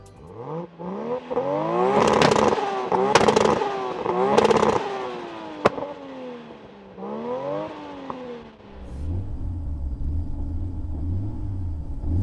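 A Toyota Supra's engine is revved for a sound check, with several sharp rising and falling revs and crackles, then dropping to a lower, rumbling idle near the end.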